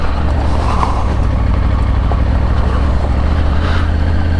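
A Triumph Tiger 900 Rally Pro's T-plane triple-cylinder engine drones steadily up close while riding off-road, with a deep, even rumble, holding a constant low throb throughout without pauses or voices.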